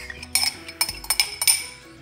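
Cupcake batter of milk, oil and yogurt is stirred by hand in a bowl, with quick clinking scrapes of a utensil against the bowl in an uneven rhythm, close and fairly quiet.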